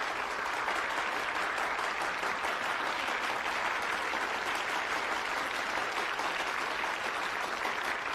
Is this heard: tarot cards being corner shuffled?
no